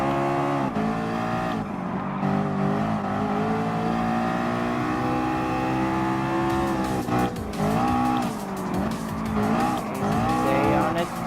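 Race cars in Gran Turismo Sport, including a Porsche and an Aston Martin, roaring with sustained engine drone, rising and falling revs as gears shift and cars dice through a tricky corner, loud and continuous.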